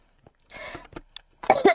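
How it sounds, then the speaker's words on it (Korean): A woman coughs twice in quick succession near the end, close and fairly loud, after softer throat noises and breathy sounds. "기침이 계속 나와서"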